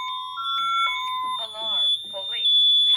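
A home security alarm system sounding during a test gives steady high electronic beeps and tones, loud and close, while a synthesized voice speaks over it.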